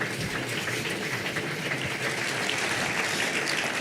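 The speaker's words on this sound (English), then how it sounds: "Rodrigo Londoño, please give them a round of applause" A conference audience claps continuously, a dense, even patter of many hands at steady volume, with no voices standing out.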